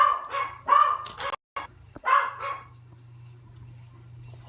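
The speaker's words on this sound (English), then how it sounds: "Puppies are having a fit at the mailman." Small dogs bark sharply in a few quick bursts at a mailman, fairly close indoors, then fall quiet as a low hum lingers.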